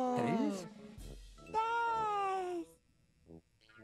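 A cartoon cat meows in a children's TV show, a wavering, pitched cry heard in a couple of bursts close up, with other vocal sounds around it and a faint jingle at the end.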